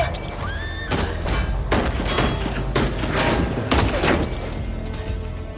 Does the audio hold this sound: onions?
no